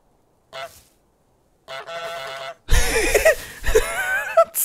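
Cartoonish goose honks from Untitled Goose Game, a few short nasal calls following brief quieter game sounds, fairly loud and close.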